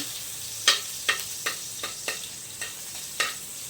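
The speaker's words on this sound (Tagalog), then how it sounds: "Lalagay na po natin ang bawang. Mekos-mekos na po muna natin yan." Garlic sautés in hot oil in a pan for a squash dish, with a spoon stirring in about seven distinct scraping strokes over a faint background sizzle, close and moderately loud.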